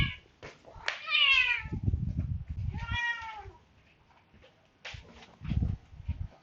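A domestic cat meows repeatedly nearby, with several drawn-out, wavering meows spaced a second or two apart over faint background thumps.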